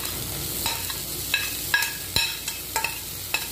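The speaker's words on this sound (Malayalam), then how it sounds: "മീനിട്ടോട്ട് നന്നായിട്ടൊന്ന് ഇളക്കണം." Ground fish is stirred into frying masala in a pan for a fish puff filling. A spoon scrapes the pan in several sharp strokes over a low, steady sizzle.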